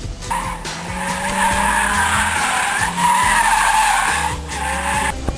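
Tires squeal steadily through a long skid as a drifting car's engine drones loudly beneath, the screech wavering in pitch and never letting up.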